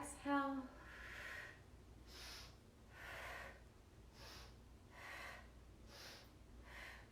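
Someone takes slow, rhythmic breaths in and out during a mat Pilates exercise, about five soft, airy breaths evenly spaced and close by. A brief voiced sound comes right at the start.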